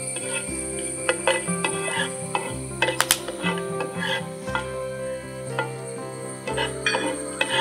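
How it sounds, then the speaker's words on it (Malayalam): Cardamom, cinnamon and cloves sizzle in oil for tempering a Kerala chicken curry, a steady frying hiss with frequent clinks and scrapes of a spoon stirring in the pan. "ടംബറിങ്ങിന് വേണ്ടിയുള്ളതാണ് ഏലക്ക പട്ട ഗ്രാമ്പു അതുപോലെ സ്പൈസസ്"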